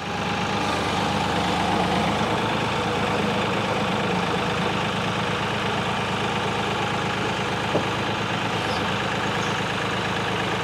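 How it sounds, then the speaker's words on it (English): A tractor engine runs steadily at a low rumble while its pallet forks dig out tree stumps, a continuous mid-distance drone with almost no change in loudness and no voices. "people do use their pallet forks for digging or getting stumps out like this"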